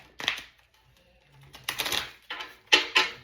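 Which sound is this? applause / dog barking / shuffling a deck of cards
shuffling a deck of cards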